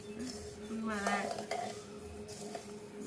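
Coriander seeds roasting in a pan: a low sizzle with scraping and clinking as they are stirred, close and fairly loud, with a voice heard briefly.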